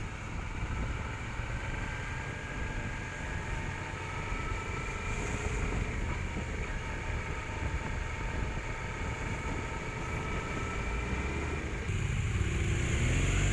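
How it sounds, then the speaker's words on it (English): A BMW 1200 motorcycle cruises on a road with a steady, loud engine drone and heavy wind rush throughout, rising slightly at the end. "He's on his new to him BMW 1200."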